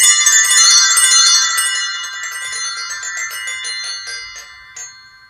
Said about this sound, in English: Again, another instrument that you need no lessons to play. It's called a spinning bell.